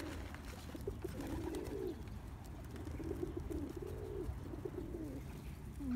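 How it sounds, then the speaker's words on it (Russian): Pigeons coo steadily in a city park during Pentecost-week bird feeding, after being given sunflower seeds and bread; several birds sound close together in repeated low rolling phrases over faint outdoor background. "Избалованные голуби."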